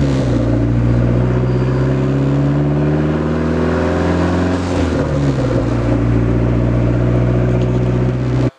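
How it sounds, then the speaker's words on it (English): A Dodge SRT4 with a newly fitted loud exhaust driving along, its engine droning heavily from inside the cabin with a rising and falling rumble and a brief dip in pitch midway. "currently the exhaust setup is way too loud to daily"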